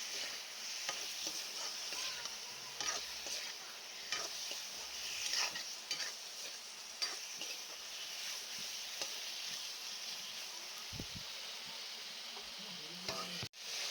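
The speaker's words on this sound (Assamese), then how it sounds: "হালধি আৰু নিমখখিনিৰ লগত মাংসখিনি লৰাই দিছোঁ অলপ টাইম" Pork frying in oil is stirred with turmeric and salt, a soft continuous sizzle with faint scraping of a spoon in the pan, fairly quiet and steady with no voices.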